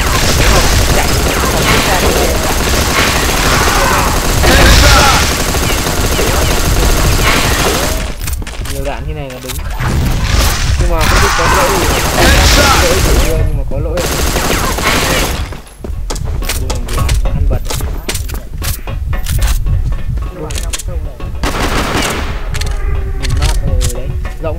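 Rapid gunfire bursts and clattering weapon fire from the CrossFire (CFQQ) shooter video game, loud and near-continuous with breaking and impact noises, while someone talks over the gameplay.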